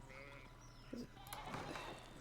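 A few faint sheep bleats come through in the game Pentiment, short and distant and laid over a steady background hum.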